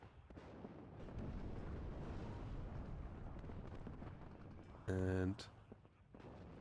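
Artillery shells slam into 120mm mortar units in the strategy game WARNO, a dense rumble of impacts and battle noise running under a commentator's voice, with one sharp, loud burst near the end.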